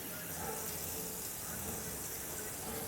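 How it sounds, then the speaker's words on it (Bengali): Water pours steadily into a mixer jar holding green chillies, black and white mustard seeds and poppy seeds, a continuous close gush that runs throughout with no pauses. "পরিমাণ মতো জল দিলাম।"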